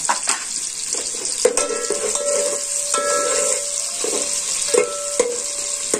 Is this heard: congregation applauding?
no